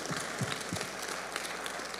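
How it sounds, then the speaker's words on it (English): Scattered applause from a church congregation, a dense patter of clapping hands that holds steady at a moderate distance. "That's a good place for you to clap hands."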